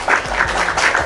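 A short burst of applause, a crowd clapping briskly for about a second, loud and close.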